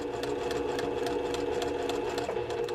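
A sewing machine runs steadily, stitching a seam on a flying geese quilt block, its motor hum continuous with a fast, even needle rhythm, close and alone.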